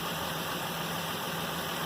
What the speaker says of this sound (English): The engine is running and you can see the water.